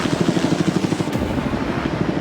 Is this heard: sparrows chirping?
no